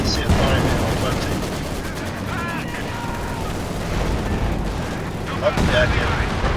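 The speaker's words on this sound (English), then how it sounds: "I can see it firing the ML-20." An ML-20 artillery gun fires in a World War II strategy game, its booms buried in a dense, steady wash of battle noise, gunfire and explosions under a commentator's talk.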